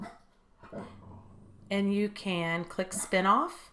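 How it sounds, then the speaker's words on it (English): A pet dog barks loudly and close several times in a quick burst with a whimpering, yelping edge, right after a voice speaks calmly in a quiet room. "That's my dog."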